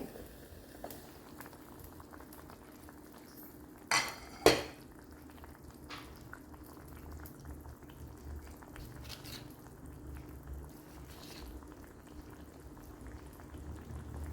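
Kerala-style fish curry boiling in a covered pot, a quiet steady bubbling simmer with two brief clanks of the lid or utensil partway through.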